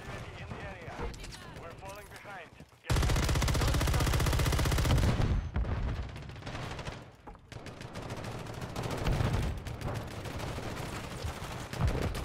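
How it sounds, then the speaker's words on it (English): Gunfire in Modern Warfare 3 multiplayer: a sudden loud sustained burst of automatic fire, then continued rattling shots and battle noise with someone talking over it. "He's shooting my body."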